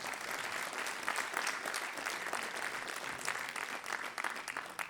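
An audience at a concert applauds a musician, a dense steady patter of many hands clapping for about five seconds, moderately distant and uninterrupted.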